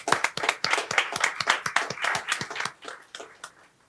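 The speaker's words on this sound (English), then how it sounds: "Let's give a round of applause for them." An audience at a county commissioners meeting claps in a steady burst of applause that is close and lively at first, then thins out and fades over the last second.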